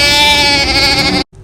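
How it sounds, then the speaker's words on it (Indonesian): A single loud, drawn-out goat bleat with a wavering, nasal tone, lasting over a second, then cut off abruptly. "Suara kambing seperti ini"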